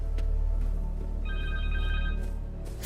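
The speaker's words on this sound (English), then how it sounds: "Phone. Connor's cell phone." A cell phone rings in the video game Marvel's Spider-Man 2, a short electronic trilling tone sounding once over a loud, low rumbling game background.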